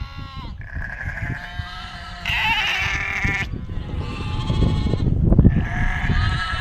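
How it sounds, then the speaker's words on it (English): Several sheep in Maasai land, Kenya, bleat one after another in the evening, loud and close, their wavering cries overlapping with some rustling and shuffling underneath. "These are sheep."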